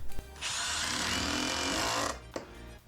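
A power drill drives screws into sheet metal while converting an RV into a cargo trailer, one steady high whirring run of about two seconds, close and loud, bracketed by brief knocks.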